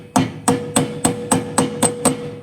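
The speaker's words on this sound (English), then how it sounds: "I'm going to hammer it down really hard" A hammer taps a part on a tire in a shop for a GSP9700 tire balancer, eight evenly spaced sharp metallic blows close by, with no talking.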